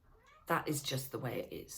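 A house cat meows several times up close during a live calm-down talk, its cries overlapping a speaking voice.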